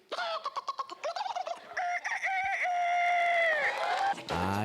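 Startled chickens and ducks squawk and cluck in a rapid, overlapping burst, with sharp choppy calls giving way to a long, strained, wavering cry before a final honk, loud and close.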